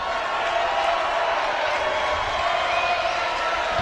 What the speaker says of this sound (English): You can hear the crowd really getting behind their team.